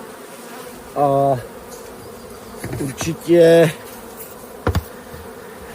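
Honeybees buzz at a beehive during a spring brood and stores inspection: a few loud, droning passes of a couple of seconds each, with a brief spoken voice between them.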